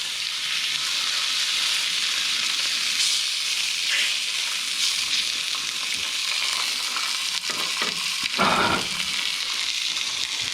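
Iberico pork cooks on a grill under a burger press, giving a steady, close, bright sizzle and hiss that carries on without any talking.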